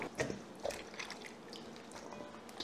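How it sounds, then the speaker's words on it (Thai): Tamarind pulp being rinsed of dust in water: soft drips, splashes and trickles with irregular sloshing, close and moderately quiet, without speech. "เนื้อมะขามที่เราได้มาเนี่ยเราจะล้างฝุ่นออกก่อนสัก 1-2 รอบนะคะ"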